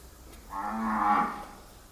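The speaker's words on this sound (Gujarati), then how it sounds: "ગાયોના ભાંભડા છે એ તમને સાંભળીને અહીંયા બોલાવે છે" A single cow lowing at a cow shelter in Kobadi, one drawn-out moo swelling and fading over about a second, fairly close and alone against quiet background.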